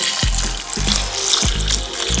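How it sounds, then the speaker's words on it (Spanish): Water splashes into a cooking pot over green plantains, poured in several short bursts that slosh and trickle close up, with no talking. "Para luego agregarle un poquito de agua."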